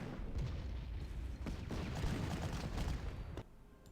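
A tank firing in the Panzer Corps wargame produces a muffled series of booms and rumbling impacts over a continuous dull roar, moderately faint, ending abruptly.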